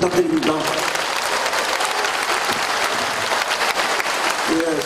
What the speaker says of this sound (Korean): 우리 다같이 박수 좀 부탁드립니다.